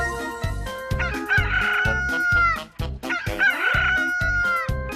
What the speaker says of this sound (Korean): 새벽 닭이 요란하게 울어대자